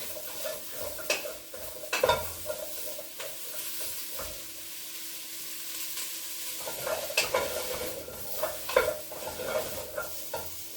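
Chopped vegetables such as carrot and parsnip sizzle in a pot for an Irish beef stew. A spoon stirs them in repeated scraping bursts against the pot over a steady low frying hiss, with no talking.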